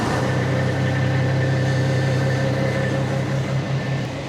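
A running engine idles with a steady low hum and faint tonal whine, loud and close, holding an even drone throughout with no talking.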